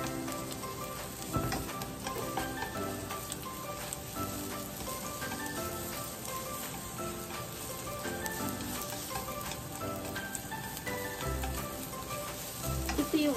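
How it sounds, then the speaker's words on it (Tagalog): Onion and garlic fry in a hot pan with a dense, continuous sizzle that holds steady and close, broken by occasional scraping stirs. No one speaks. "So, mainit na yung ating kawali. Iigisan natin yung ating sibuyas tsaka"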